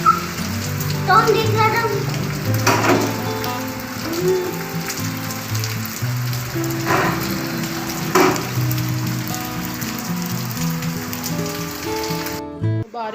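Steady monsoon rain patters on a surface throughout, with a few louder drips and a voice speaking briefly over it.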